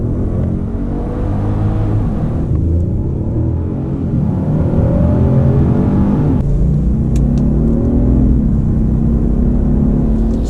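A 2018 Genesis G80 Sport with a twin-turbocharged 3.3-liter V6 drives steadily, giving a loud, continuous engine drone and road rumble with shifting tones throughout.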